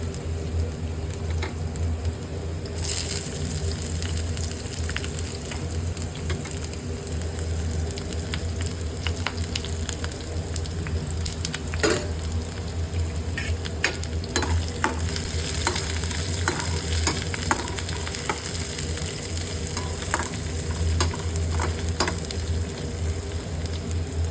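Crushed garlic and onion sizzle steadily in hot oil in a pan, with a continuous frying hiss broken by repeated scraping and clinking of a spoon stirring, close and fairly quiet, with no talking.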